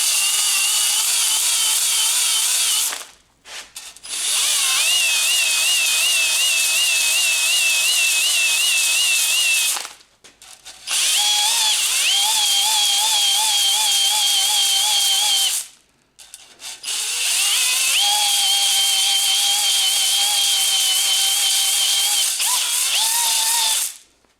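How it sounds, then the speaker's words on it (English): A hone works inside the cylinder of a 1000HP engine, a loud close whining grind in three long runs with short silent breaks between them, no talking. "So let's just stick a hone to it."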